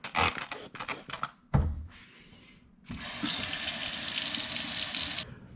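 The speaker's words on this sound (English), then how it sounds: "just soak this pan with soap and hot water" Hot tap water runs into a stainless steel pan set to soak with soap, starting after a few clanks and knocks, then pouring as a steady, close, loud hiss that stops abruptly.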